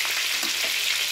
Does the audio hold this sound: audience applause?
no